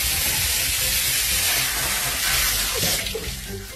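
Water gushes hard and continuously from a burst pipe or tap at a workplace, a loud steady hissing rush that holds throughout with slight swells.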